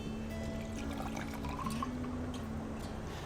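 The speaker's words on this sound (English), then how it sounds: "So we're gonna go ahead and pour that right in the tin." Orange juice pours into a metal cocktail tin with ice, giving a continuous close liquid pouring and trickling sound with a faint rising tone as the tin fills.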